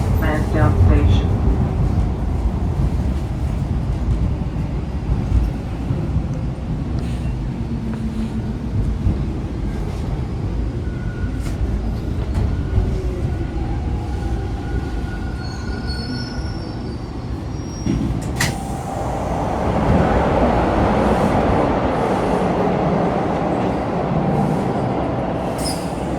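A Toronto Bloor-Danforth subway train rumbles into Lansdowne Station with a loud, steady roar and drawn-out wheel squeals, while a voice speaks over the noise.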